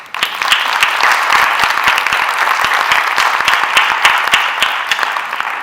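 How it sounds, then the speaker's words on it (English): A concert audience at the Darpan 2012 closing concert in Singapore gives a sustained round of applause: dense, steady clapping from many hands, fairly loud and close, running the whole time with no talk. "please join me in recognizing their efforts with a round of applause"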